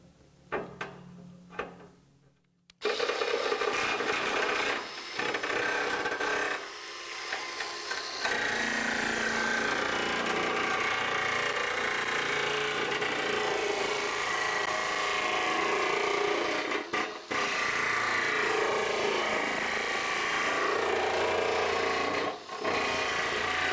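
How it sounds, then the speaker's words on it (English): A power nibbler chews through sheet metal roofing in a continuous, dense rasping chatter after a brief quieter start, running loud and close with only momentary breaks. "let's wrap up with our nibbler here"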